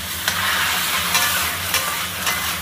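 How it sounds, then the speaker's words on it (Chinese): Pork trotters stir-fried in a wok with soy sauce and rice wine, a steady loud sizzle with scraping stir strokes at regular intervals, no talking. "给它炒一炒，颜色立马就上来了啊！"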